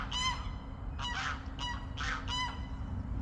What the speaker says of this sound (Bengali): আপনারা দেখতে পাচ্ছেন পার্কের ভিতরে এখানে অনেক রাজহাঁস মানুষের মতো স্বাধীনভাবে ঘুরে বেড়াচ্ছে